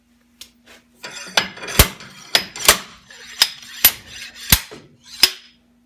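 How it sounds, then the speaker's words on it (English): A slide hammer strikes sharply about nine times in a steady rhythm, pulling an axle shaft from a Ford TTB 44 front axle; metallic impacts are loud and close with no talk. "And then we're going to take a slide hammer and work its way out."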